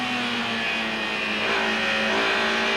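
Touring race cars, BMWs and Ford Sierras, racing at Silverstone in the 1990 British Touring Car Championship, a loud steady engine roar with rising revs as cars pass, heard without speech.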